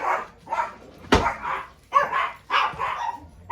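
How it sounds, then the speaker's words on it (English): Several dogs barking at home in repeated sharp bursts, close and loud, with short yips between the barks. "my dogs are really barking"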